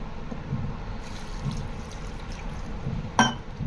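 Water poured into a pan of cluster beans being prepared for a village-style fry, a soft, low steady trickle with faint splashes and a brief sharp clink near the end.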